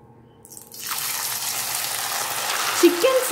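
Chicken 65 pieces dropped into hot oil set off a loud, steady sizzle that starts abruptly after a second of near quiet and keeps bubbling, with a brief voice near the end.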